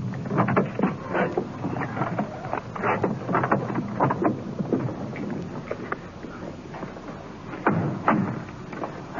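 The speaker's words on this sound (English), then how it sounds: "Wind blowing across here tonight." Radio drama wind effect on a night street outside a house, a steady loud rushing whoosh with gusting swells and occasional low thumps, no voices.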